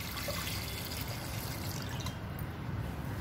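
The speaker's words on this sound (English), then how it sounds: "Then we are using cold water." Cold water runs steadily from a tap while something is washed clean of chemicals and powders, a constant close hiss with no break.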